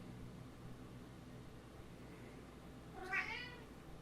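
A cat gives a single short meow near the end, faint and alone over a steady low background hum.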